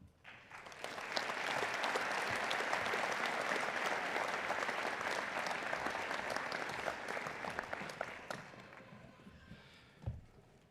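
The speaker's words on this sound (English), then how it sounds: "there was some pretty good applause by individual families" Families in the audience applaud at a School of Medicine and Health Sciences degree ceremony, sustained crowd clapping for about nine seconds in a large hall before fading, with a thump near the end.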